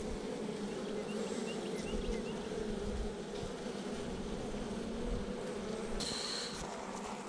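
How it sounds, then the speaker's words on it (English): A package of honey bees being installed into a hive in Central Texas buzzes steadily and loudly throughout, a dense close-up drone of many bees with no talking. "now I'm going to dump these bees in there with any luck at all"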